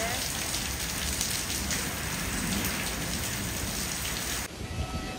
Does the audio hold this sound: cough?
no